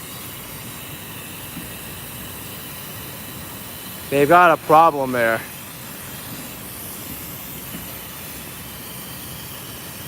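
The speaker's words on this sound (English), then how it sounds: "I think that's a broken steam pipe or something." Steam hisses from a broken, corroded steam pipe on a New York City street in Tribeca, a constant broadband rush that persists throughout while someone briefly speaks over it midway.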